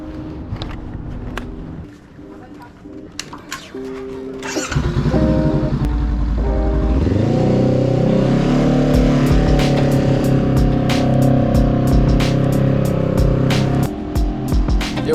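A motorcycle on a summer ride through San Francisco starting up and pulling away, with a low idling thrum giving way to a loud, steady engine drone that rises in pitch as it accelerates, close to the rider.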